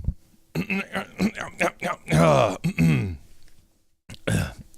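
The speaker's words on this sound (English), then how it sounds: "Gotta get all the sniffles, the stuff out of my throat." Someone at the opening of a charity livestream noisily clears their throat and sniffles, a run of rough throaty bursts with brief pauses, close to the microphone.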